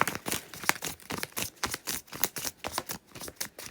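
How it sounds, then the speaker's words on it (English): A large deck of 200 round tarot cards being shuffled by hand gives close, quick papery riffles and soft clacks in an uneven stream of bursts, with no talking. "So these cards, they're quite hard to shuffle because they're round and because there are 200 of them."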